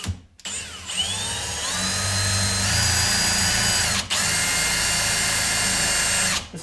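A power drill whirs loudly and steadily into oak while installing cabinet doors, its motor pitch climbing as it spins up, with a brief cut-out midway before running on, then stopping.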